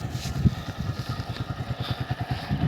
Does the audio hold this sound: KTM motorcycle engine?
yes